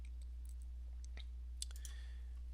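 A computer mouse right-click, a few small dry clicks spread over a quiet background with a low steady hum underneath.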